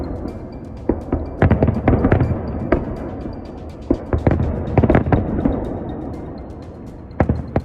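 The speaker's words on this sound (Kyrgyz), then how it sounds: "9-май жеңиш күнү эң чоң салют менен аяктады." A Victory Day fireworks salute on 9 May pops and crackles in rapid clusters of sharp bangs, some near and loud and others farther off, over a steady crowd-like background rumble.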